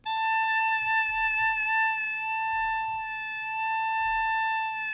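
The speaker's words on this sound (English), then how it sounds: "I mean, a vibrato, which sounds like this," Sustained wind-instrument tone with embouchure vibrato, a rich harmonic note held steadily with gentle slow waves in pitch, clear and alone without talk.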